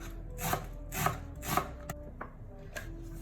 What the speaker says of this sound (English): Now I'm gonna take my red onion and cut this, the root, and I'm going to cut it in half. Slice this onion.